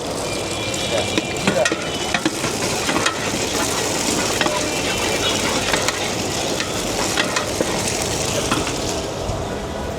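Eggs sizzle in a big wok at a busy city roadside stall, the start of a bulk batch of Chinese vegetable fried rice, with a steady loud frying hiss broken by scraping spatula strokes and clatter.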